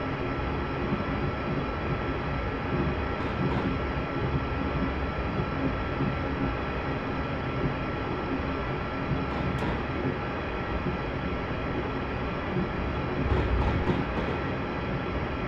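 A diesel passenger train in Train Simulator 2018 on the Rugby to Stafford stopping service, a constant loud rumble of engine and wheels on rail that holds steady throughout, with no talk.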